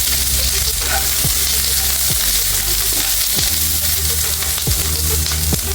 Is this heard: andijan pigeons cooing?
no